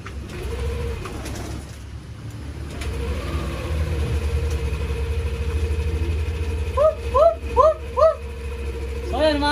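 Yamaha Aerox V2 scooter engine idling after being started, a steady low throb under talk, with pigeons cooing loudly nearby toward the end.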